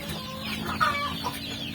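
Hundreds of chickens on a poultry farm clucking and chattering together, a busy overlapping flock sound with a few sharper calls rising above the steady background, moderately close.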